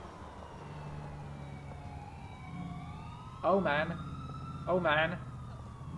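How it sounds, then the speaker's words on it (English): Emergency vehicle sirens wail in the distance in GTA IV with the LCPDFR police mod, rising and falling behind low traffic rumble, while someone speaks briefly. "I still can hear some sirens, so something's happening there"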